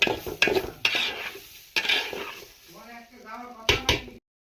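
Rice and chicken being stirred together in a pot for biryani, with scraping and clanking of a spoon against metal coming in irregular bursts, and a voice talking midway through.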